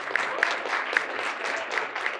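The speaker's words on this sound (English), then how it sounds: "let's give him a nice round of applause" An audience at a regional conference applauds a keynote speaker with steady, dense clapping of moderate loudness, a few sharper claps standing out, with no talk over it.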